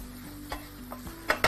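Chicken cooks in a pan on a home stove, a steady low sizzle with a few sharp clinks and taps of a utensil near the end.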